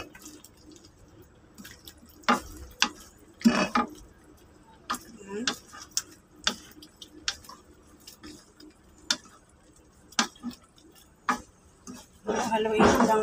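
A spoon stirs ginataang papaya with malunggay in a pot, giving scattered knocks and clinks against the metal at an irregular pace, with occasional soft sloshing and a louder rattle near the end.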